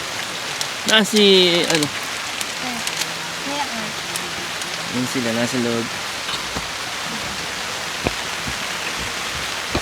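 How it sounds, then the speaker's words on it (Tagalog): Steady rain drums on a camping tent at a campsite, a dense even patter throughout, with people talking briefly over it early on. "umuulan"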